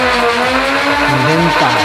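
Nerf Ultra Scream Machine blaster with its flywheels spinning up, a loud continuous whine with rising and shifting tonal pitches that fills the whole short stretch at close range.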